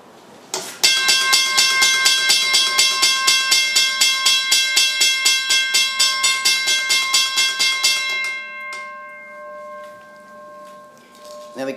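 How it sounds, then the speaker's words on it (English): A rapid Western Cullen Hayes mechanical bell rings continuously, a hammer striking a gong about four times a second for several seconds, then stopping and leaving a fading ring. "that operates the hammer, which swings back and forth and hits the gong"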